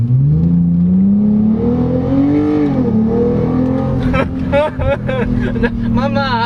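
A 2015 Hyundai Genesis Coupe with a 3.8L V6 and 8-speed transmission pulls hard from the cabin, its loud, rising engine drone climbing through gears, with someone talking over it throughout.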